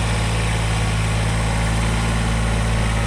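Tractor engine idling steadily close by during tree removal work, a constant low rumble with vibration and no talk over it.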